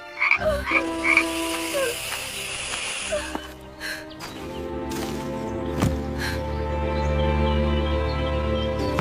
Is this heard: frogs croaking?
yes